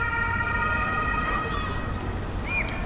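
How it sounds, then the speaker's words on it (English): A wailing emergency siren rises and falls at a distance over steady city bustle and tourist crowd noise in Munich's Old Town, with a brief voice nearby. "Oh, the siren's here."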